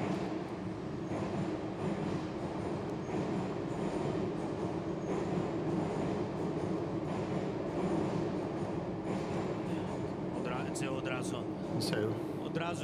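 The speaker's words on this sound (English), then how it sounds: "so let's listen to the subway." Subway train in Ukraine running along the rails, a continuous loud rumble and roar with rhythmic wheel noise, with squealing and clattering building toward the end, heard close up without talk.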